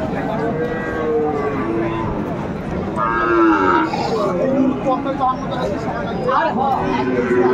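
A young Sahiwal bull calf moos loudly close by at a cattle market, amid a crowd of overlapping voices.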